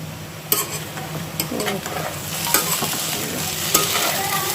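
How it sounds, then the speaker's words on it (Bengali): Potatoes fry with chopped garlic and onion in a pan, hissing steadily under repeated spatula stirs and sharp scrapes at a close, even volume, with no voices. "রসুন কুচি আর পেঁয়াজ কুচি দিয়ে আলু ভাজা করবেন"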